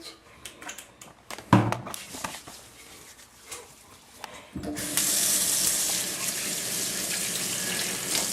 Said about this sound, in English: got my antibacterial soap that I'm about to use right now to wash my hands